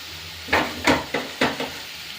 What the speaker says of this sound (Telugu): ఈ ముక్కలన్నీ బాగా సాఫ్ట్ అయిపోయేదాకా వేయించుకుందాం.